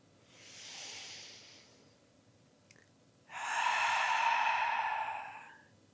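Two slow breaths during mindful breathing, first a soft inhale, then after a pause a louder, longer exhale pushed out through the mouth, close and breathy with no talk.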